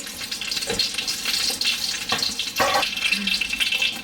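Hot oil crackles and spits steadily as mustard seeds temper in it, with sharp little pops scattered through the sizzle and a few clinks of a pan, no talking.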